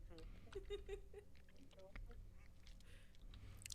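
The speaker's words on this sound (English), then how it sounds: "I hear a duck. Where's the duck?" A duck quacks in modded Minecraft (Better Minecraft 1.19.2): a quick run of three or four nasal quacks near the start, faint under low game noise and murmuring voices.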